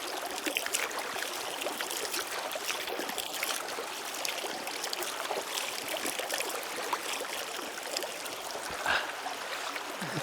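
Forest stream water flows in a steady, close rushing babble, continuous and even, with no voices over it.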